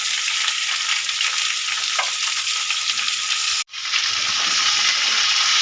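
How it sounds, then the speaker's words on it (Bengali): Cubed pumpkin and Malabar spinach stems sizzle loudly in oil in a pan while being stirred for a hilsa-head chorchori, a continuous close frying hiss broken by one brief pause. "মিষ্টি কুমড়োটা দু মিনিট মতন নেড়ে নিয়েছি এবারে ওর সাথে দিয়ে দেবো পুঁই শাকের ডাটা"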